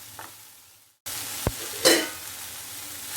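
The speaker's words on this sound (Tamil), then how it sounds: "green capsicum, red capsicum, yellow capsicum போட்டுட்டு இதையும் வதக்கிக்கலாம்." Green, red and yellow capsicum sauté in a hot pan for chilli idly, with a sudden sizzle when they land, then a steady frying hiss broken by a spatula knock and a burst of stirring.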